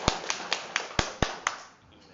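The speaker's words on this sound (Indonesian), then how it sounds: "Tepuk tangan sekali lagi boleh." Seven sharp, evenly spaced claps about a quarter second apart from an audience at a seminar, close and crisp, fading into quiet room tone.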